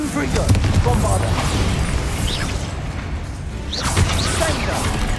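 Magical Confringo and Bombarda spell blasts from the Hogwarts Legacy video game, a dense run of booming bursts and crackling impacts over continuous rumbling game noise, with a voice calling out between them.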